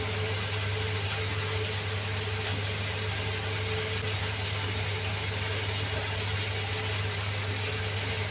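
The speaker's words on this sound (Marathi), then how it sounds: "आता मला एक्झॉस्ट फॅन लावणं गरजेचं आहे." A kitchen exhaust fan runs with a steady, even hum and airy whoosh while spice paste roasts for a black pea and bottle gourd curry. The drone stays constant with no talk.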